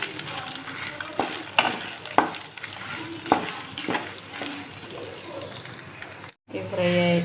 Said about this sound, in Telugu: మిరపకాయలు అయితే వేసేసుకుందాము కొంచెం ఫ్రై అవ్వాలి